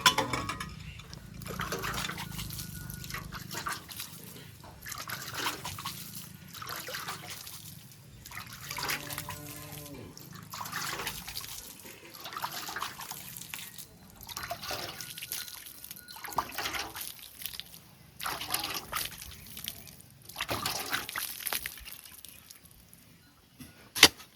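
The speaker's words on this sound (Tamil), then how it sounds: "தண்ணி வந்து பார்த்தீங்கன்னா ஏற்கனவே மண் ஈரமாக இருக்கிறதுனால லைட்டாக தெளிச்சாலே போதும்ப்பா." Water lightly sprinkled over already damp soil while preparing a Pongal thittani, heard as soft intermittent trickles and patters across a faint outdoor background, with no talking.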